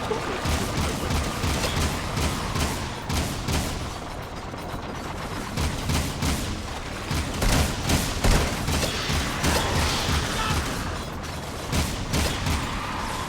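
Video game Jak II combat: dense, continuous bursts of gunfire and explosive blasts fill the whole stretch, rapid and loud with no pauses.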